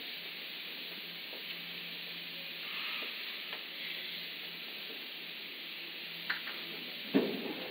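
Portobello mushrooms sizzle on a grill over cherry wood smoke, a steady close hiss with soft crackles and a few sharp pops and a clink near the end.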